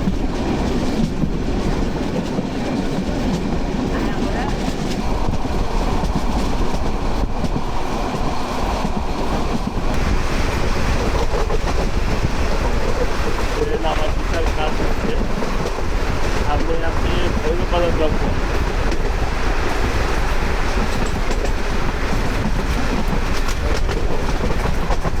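The Kishoreganj Express intercity train runs with a constant loud roar and rattle of wheels on rails, heard from inside, steady throughout with a faint voice now and then.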